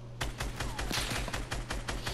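Heavy turret firing in a video game, a rapid, steady burst of loud heavy shots repeating at an even rhythm for the whole stretch, close and with no voices over it.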